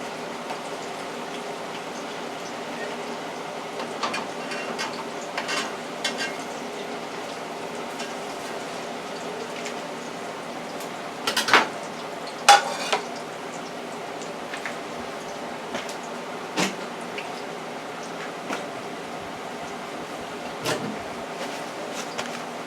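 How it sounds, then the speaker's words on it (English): Two plantains frying in a hot pan alongside chicken livers, giving a steady low sizzle and bubbling hiss with occasional sharper crackles and pops, moderately close and with no one talking. "Okay, the 2 bananas are in the frying pan."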